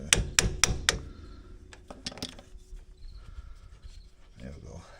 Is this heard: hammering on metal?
yes